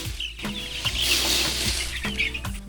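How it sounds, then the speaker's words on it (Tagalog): Brown Egger chicks on a farm, a steady cluster of soft peeping and chirping with a few repeated low clucking notes, fairly close, and no talking. "Ito mga sisiw na ito ay pang-out ko sa RTL na Brown Eggers."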